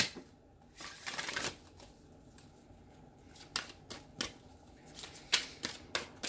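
Playing cards being shuffled close by in several quick riffling bursts, each a short crisp flutter, with quiet gaps between.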